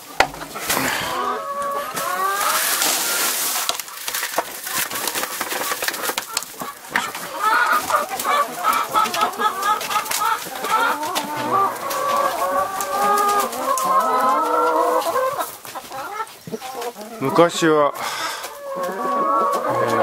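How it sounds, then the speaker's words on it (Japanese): Chickens cluck busily and continuously while pecking at sea urchin shells outdoors in Shakotan, with a rooster crowing at times and people talking now and then. "ウニの殻をニワトリにあげてみましょう。"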